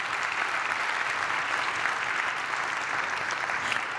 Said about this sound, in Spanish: Un aplauso para Carlos Sasso, por favor.